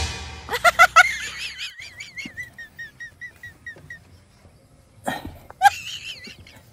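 A patient coughs at a doctor's request during an exam: a burst of harsh coughs near the start, then a string of short rhythmic vocal hacks that fade, and a final pair of coughs, close and fairly loud.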